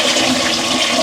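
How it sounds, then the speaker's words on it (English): A Japanese toilet in a tiny Shinjuku, Tokyo apartment flushes close by, giving a steady, loud rush of water that holds for the whole stretch with no voices. "when you flush a Japanese toilet"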